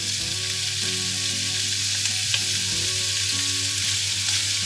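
Sausages fry in a pan with a little olive oil, giving a steady, close sizzle throughout with a few soft clinks and stirring sounds, and no talking.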